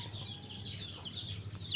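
Bearded rooster clucking close by, a short run of soft throaty clucks over steady background noise.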